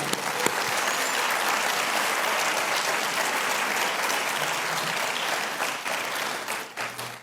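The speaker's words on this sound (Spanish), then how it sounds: "darles un fuerte aplauso a las mamás en el Día de la Madre" A church congregation gives mothers a strong round of applause on Mother's Day, dense clapping that stays steady and full for several seconds before thinning out at the end.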